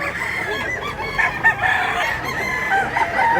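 Chickens at a poultry market cluck and a rooster crows nearby, loud overlapping calls with bursts of crowing over a busy background of birds.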